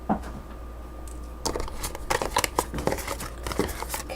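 Crisp, rapid riffling and slapping of tarot cards being shuffled, several bursts in quick succession after a quiet start, close by.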